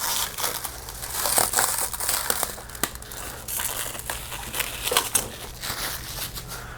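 Plastic protective wrapping crinkles and crunches close by as it is peeled off a Traxxas TRX-6 Hauler 6x6 radio-control truck, in a continuous uneven rustle with no talking.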